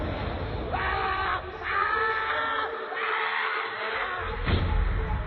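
A man lets out a loud, drawn-out scream in a horror story, rising and falling over several seconds with harsh, strained bursts against a noisy background.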